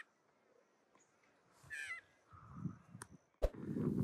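Crows caw at a small lake with swans, giving a few harsh, scattered calls at irregular intervals over quiet outdoor ambience, with some low rumbling bursts between them.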